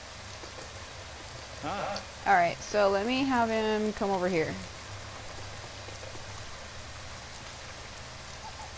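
Steady rain hisses continuously in the background of Dynasty Warriors 9 while someone talks briefly over it.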